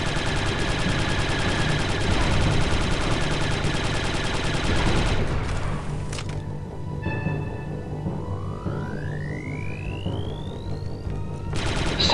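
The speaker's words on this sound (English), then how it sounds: "I shot friendly turrets, I'm sorry." Turret gunfire in Star Wars Republic Commando, a rapid sustained fusillade of loud blaster shots for about five seconds, then quieter electronic tones and a rising whine before the firing briefly returns.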